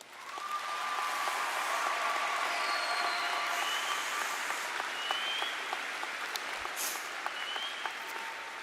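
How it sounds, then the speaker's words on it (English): At a college commencement ceremony, a large audience claps steadily, a dense wash of applause that swells quickly, holds, and slowly thins, with a few whoops and scattered claps near the end. "give our people a round of applause for their support in helping get us here"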